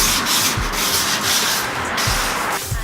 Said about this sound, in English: scuff it up with some 400 grit sandpaper